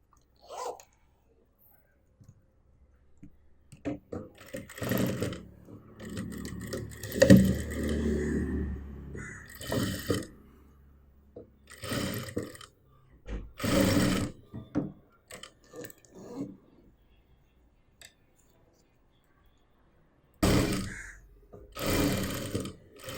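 A sewing machine stitches a zip onto a pouch made from waste cloth in short, close bursts of rapid whirring, separated by quiet pauses and light handling noises.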